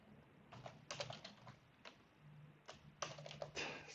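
Quick bursts of computer keyboard typing while Python test-automation code is entered, clusters of close, crisp keystrokes with short pauses between them, quiet overall and with no voices.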